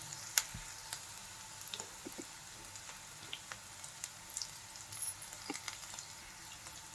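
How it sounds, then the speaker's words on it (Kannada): Bitter gourd and onion frying in a pan with spices, a soft steady sizzle with faint scattered pops and light stirring taps, no voices. "ಬ್ರೌನ್ ಆಗೋವರೆಗೂ ಫ್ರೈ ಮಾಡ್ಕೋಬೇಕು."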